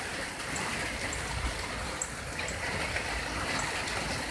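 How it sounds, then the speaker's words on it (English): Steady rain pouring down during a storm, a faint, even wash of hiss and patter with occasional soft drips. "It's pouring down rain for sure now."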